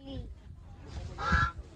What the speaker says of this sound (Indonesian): Wah, ini bebek.